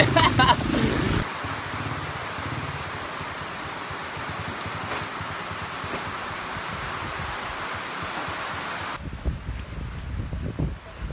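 Heavy rain roars steadily, mixed with gusty wind buffeting the microphone; a brief louder burst opens and a voice briefly comes through at the end.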